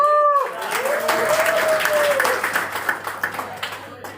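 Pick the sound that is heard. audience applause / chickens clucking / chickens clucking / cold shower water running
audience applause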